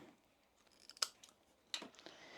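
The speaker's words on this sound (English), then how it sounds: "if you've got trim zip overhanging, you can trim that at this stage" Sharp scissors snip through an overhanging zip on a fabric tote bag in two crisp, close cuts, separated by quiet rustling of the material.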